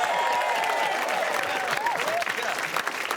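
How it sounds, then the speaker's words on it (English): A studio audience claps and cheers loudly and steadily, a dense wash of applause that holds for several seconds, with a voice cutting through it. "keep that applause going for me"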